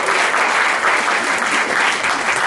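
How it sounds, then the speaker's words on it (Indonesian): A standing congregation at an Abbalove church service gives loud, sustained applause, dense and close, with steady clapping filling the room and no speech over it. "Kita beri tepuk tangan terbaik buat Tuhan kita."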